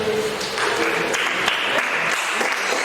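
A church congregation claps in sustained, dense applause at an evangelical service, the clapping steady and full throughout with no clear talking over it.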